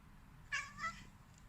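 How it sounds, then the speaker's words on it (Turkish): A cat gives two short, close meows in quick succession that sound like a voice saying "mom", standing out against a quiet room with faint low hum. "anne diyen kedi"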